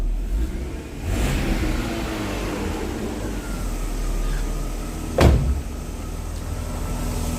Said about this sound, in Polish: Zobaczcie jak ten silnik chodzi.